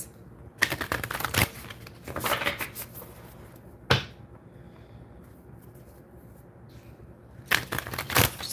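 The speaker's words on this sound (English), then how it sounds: "Just doing a little pre-shuffling right now." Tarot cards riffle and flutter in several quick bursts of shuffling, separated by quieter pauses, close up.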